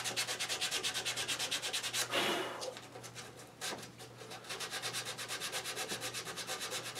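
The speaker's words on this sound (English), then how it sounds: "I've got a piece of 180 on the sander right now." A mechanical sander fitted with 180-grit paper works over a wooden monitor stand, giving a steady, loud abrasive rasp with a rhythmic pulsing texture, briefly dipping and changing in tone midway before resuming its even grind.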